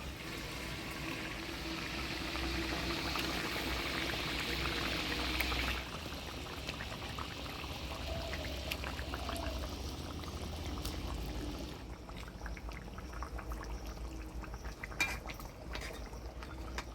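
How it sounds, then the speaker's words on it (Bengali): Fried fish goes into boiling water in a pan in a Bengali village kitchen, with a loud pouring hiss first and then steady bubbling and faint clinks of utensils. "ভেজে রাখা মাছগুলো দিয়ে দিলাম"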